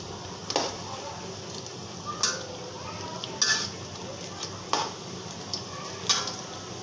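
Banana pitha fries in oil and is flipped: a steady low sizzle with about half a dozen sharper scrapes and clinks of a utensil at irregular intervals, fairly close, with no talking.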